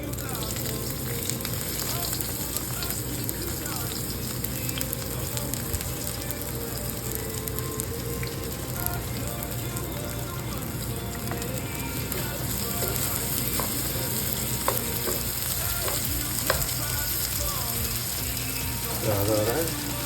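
Brinjal (eggplant) pieces sauté in olive oil with a steady, close sizzle that runs unbroken throughout, joined by occasional clinks and scrapes of stirring.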